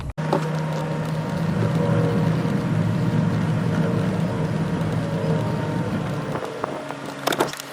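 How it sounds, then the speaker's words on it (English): A car driving straight on chalk-marked tires for a tire pressure check makes a steady low road rumble and engine drone with wind noise, ending in a few bumps and clunks. "I'm gonna drive straight a little bit"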